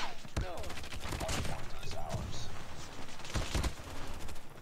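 Rapid bursts of close-range gunfire from the mobile shooter COD Mobile, sharp repeated shots in clusters over continuous game sound, with voices talking during the firefight.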